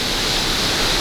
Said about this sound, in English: We're actually walking over to the actual waterfalls.